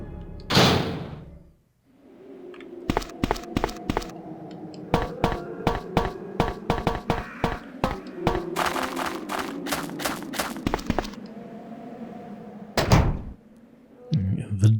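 A key turning in a locked door in the Resident Evil 2 video game, heard as a rapid run of sharp mechanical clicks and thunks over a low ambient hum, with a heavier thud near the end.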